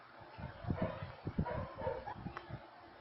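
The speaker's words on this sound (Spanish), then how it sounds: "los perritos que no paran de ladrar en la noche" Several dogs bark and yip in short bursts, faint and somewhat distant, with a few whimpering notes mixed among the barks.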